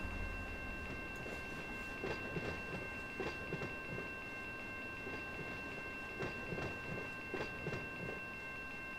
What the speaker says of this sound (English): So this whole train now is rolling downhill.